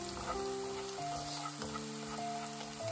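Stir-frying in a pan with a steady sizzle and soft scraping, close and continuous, with no talk over it.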